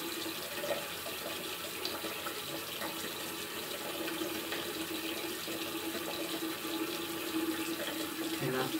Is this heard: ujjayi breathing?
no